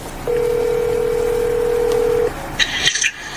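A steady telephone dial tone drones for about two seconds, then a quick run of higher dialing beeps follows, loud and close, with no talking.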